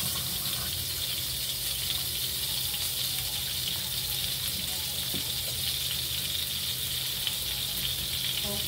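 Fish frying in cooking margarine in a pan, a steady, loud, hissing sizzle that continues without a break, with faint clinks underneath.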